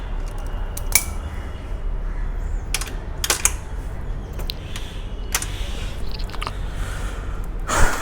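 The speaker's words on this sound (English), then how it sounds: "let me put in the 10 mm socket, and again you do not need to over tighten these bolts" A 10 mm socket ratchet tightens the sprocket cover bolts on a Honda H'ness CB 350, heard as a few scattered sharp metallic clicks and ticks over a steady low background hum.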